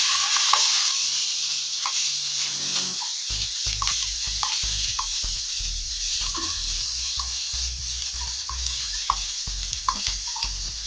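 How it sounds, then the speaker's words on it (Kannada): Chopped garlic fries in a little oil for chilli pork, giving a steady loud hiss of sizzling with scattered crackles and occasional stirring clinks, close and unaccompanied by speech. "ಸ್ವಲ್ಪ ಆಯಿಲ್ ಕಟ್ ಮಾಡಿ ಇಟ್ಕೊಂಡ ಬೆಳ್ಳುಳ್ಳಿಯನ್ನು ಹಾಕೊಳ್ತಾ ಇದ್ದೀನಿ."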